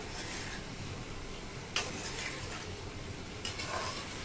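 Bitter gourd sabzi with ground peanut powder being stir-fried in a pan, a soft continuous sizzle with two brief clinks of a spoon against the vessel, fairly faint and without speech.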